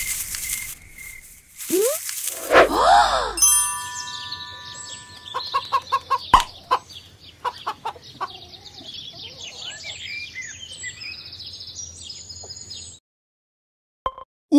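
A cartoon chicken clucks in a children's animated show, with bursts of bright, repeated clucks and gobble-like calls among other effects and background music.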